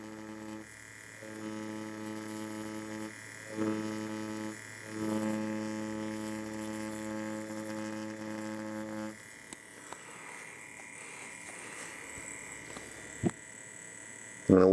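Yilong tattoo machine running in steady buzzing bursts, stopping and starting a few times, then quieter handling noises and a sharp click at the end.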